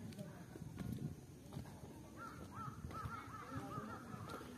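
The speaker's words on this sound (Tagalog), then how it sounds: "Sarap ng huni ng mga ibon eh." Crows caw repeatedly over a busy outdoor background at Victoria Peak park in Hong Kong, with footsteps and murmuring voices mixed in at moderate distance.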